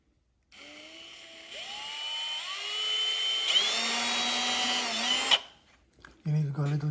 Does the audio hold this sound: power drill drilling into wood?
yes